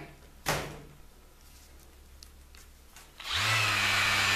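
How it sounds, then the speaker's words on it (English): An electric sander working on a car body during body prep: quiet scraping and a sharp knock early on, then a vacuum hooked up to pull away dust starts and settles into a loud, steady whining hum. "I'm hitting all the parts I can with my electric sander."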